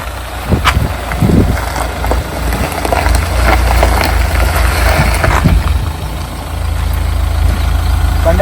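A Mahindra Thar's engine runs steadily with a loud, close rumble and a few knocks and clunks, with no one talking.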